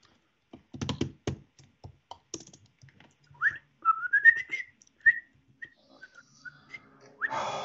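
A person whistles a short, rising and sliding tune in a Minecraft-style fairy-tale park build, preceded by a few taps and clicks, with a brief rushing noise at the end.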